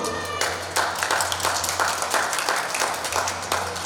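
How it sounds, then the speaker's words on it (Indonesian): A crowd at a Ramadan cooking-demo event claps in a loose, rhythmic run of dense hand claps that lasts throughout, with a faint hum underneath. "Saya boleh minta tepuk tangannya dulu."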